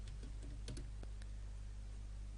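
Code being typed on a computer keyboard: a handful of quick, light key taps spread across a couple of seconds over a steady low hum, close and fairly quiet.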